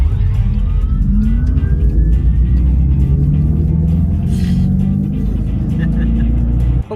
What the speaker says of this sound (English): Here's the power shot sound.